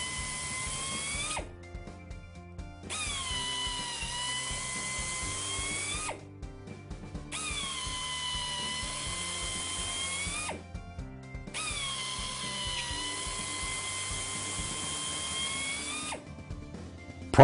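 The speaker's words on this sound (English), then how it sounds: "Proper drilling with the appropriate size carbide cutter ensures complete damage removal while preventing future injury growth." Air-powered drill spinning a carbide cutter through a tire injury for a repair, three sustained high whining runs of a few seconds each separated by short pauses, close and loud with no talk.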